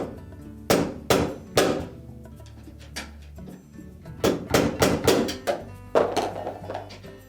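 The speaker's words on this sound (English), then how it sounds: "can probably tap that down with a small hammer." A small hammer taps on a metal tang up close during a Whirlpool refrigerator roller repair, sharp ringing strikes coming in quick clusters of two or three with short pauses between.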